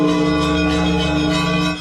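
Church bells ring during a military parade and a ceremony proclaiming the Act of Unity on Sofia Square, a continuous loud, rich metallic peal with dense overlapping tones that fades slightly at the very end.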